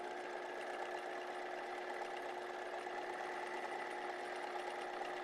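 Sewing machine running a straight staystitch on fabric, a steady even hum of rapid stitching at close range, fairly quiet and without talk.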